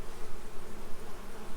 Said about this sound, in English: The bees are orienting right now,